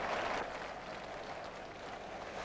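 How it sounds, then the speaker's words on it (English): Stadium crowd at a Newcastle United versus Portsmouth football match in 1992 applauding a goal, a broad, steady wash of distant clapping and murmur that fades slightly after the start. "Mickey Quinn takes the applause he richly deserves"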